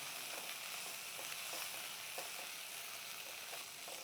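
Ginger-garlic paste sautéing in a pan, a steady close hiss of frying oil with faint stirring underneath, continuous and fairly quiet, with no talking.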